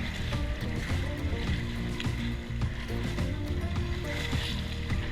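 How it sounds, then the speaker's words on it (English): While sailing a sailboat on Lake Washington, waves wash and slap steadily against the hull with wind noise, a continuous, close, fairly loud churn with no engine and no talking. "simply the waves crashing into the hull and the wind"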